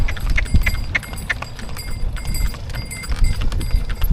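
Horse hooves clip-clop in a steady, brisk rhythm as the horse pulls a tanga cart near the India-Pakistan border, with loud close hoofbeats and faint rattling over outdoor noise.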